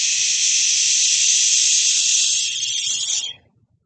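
A long, steady qigong exhale hiss made for the liver, breathed out at medium pace and moderate strength, loud and close. It holds evenly for about three seconds, then thins and fades out, with no talk over it.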